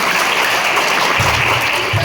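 A large school assembly celebrating Hindi Day at a model school claps loudly and continuously, a thick wash of applause that fills the room and holds steady throughout.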